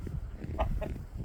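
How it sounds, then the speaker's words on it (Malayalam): Chickens of a special breed in Poland clucking out in the snow, a few short mid-pitched calls over a low rumble of outdoor background noise. "മഞ്ഞിൽ ഉളുപ്പില്ലാതെ കളിക്കുന്ന കോഴികൾ"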